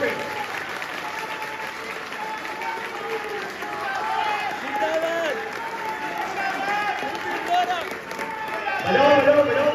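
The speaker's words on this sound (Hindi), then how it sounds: "1 मिनट तक दीप्ति इंदौरा के लिए ताली बजाओ, सारे सारे बजाओ, सारे सारे सारे बजाओ जोर से और जोर से।" Crowd clapping and applause at a Delhi political gathering in the Matia Mahal constituency, a sustained wash of clapping that swells louder toward the end while someone speaks over it.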